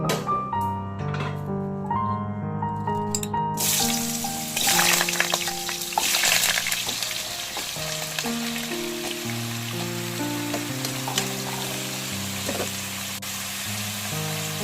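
Potatoes for mutton keema hit a hot pan and break into a lively sizzle a few seconds in, then keep frying steadily with occasional stirring, under quiet background music.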